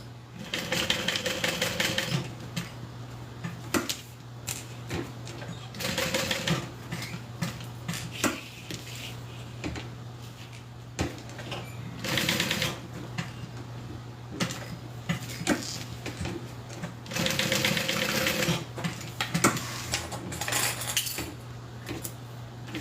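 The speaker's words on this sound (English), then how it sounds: "we're going to sew a square to secure that down." Home sewing machine stitching a square on a beginner fabric project, heard as repeated bursts of rapid mechanical whirring separated by short pauses, with a steady low hum underneath throughout.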